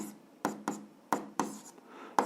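Pen or chalk strokes write out an algebra equation by hand, a series of short, sharp taps and scratches in an irregular rhythm, close and fairly quiet.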